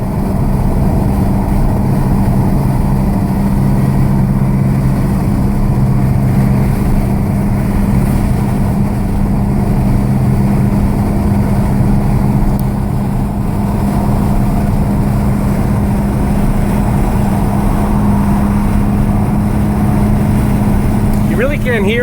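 A Volkswagen GTI MkV with an APR Stage K04 turbo on a test run, giving a steady, loud, low engine drone that holds constant throughout with no clear revving.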